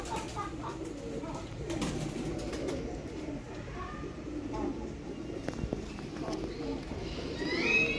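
Sialkoti pigeons cooing in a loft, low throaty coos rolling on and off under someone talking, with faint bird chirps and light background bustle.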